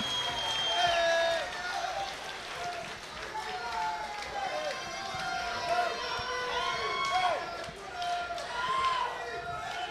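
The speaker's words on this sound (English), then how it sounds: "Ladies and gentlemen, can I get a big round of applause for 3 tough rounds of mixed martial arts" Crowd applause and cheering after a three-round MMA championship title bout, a broad arena wash of clapping with shouts and whistles rising and falling in the background, fairly distant and steady.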